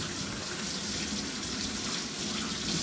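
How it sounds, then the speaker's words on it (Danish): A kitchen tap runs steadily as something is rinsed under it, a close, continuous hissing rush of water with no pauses. "Jeg skal lige vaske det her snask her."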